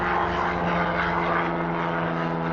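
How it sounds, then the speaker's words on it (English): An airplane flies overhead outdoors while winter pots are being planted, giving a steady, moderately loud engine drone that fills the whole short stretch with no talking. "We have an airplane going."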